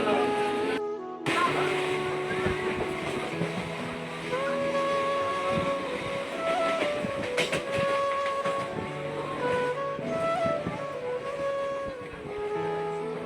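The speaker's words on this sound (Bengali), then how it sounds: "1 ঘন্টা অপেক্ষা করার পর ট্রেন আসলো।" A train arrives at Magra station, a loud continuous rumble and clatter of rail cars with a sustained tonal squeal, close by, with people talking faintly underneath.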